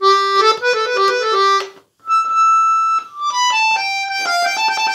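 Clarinet register on an Orion 2 accordion plays a melody of short bright notes. A single held tone comes after a brief silence, and a run of notes follows, loud and close with no talking.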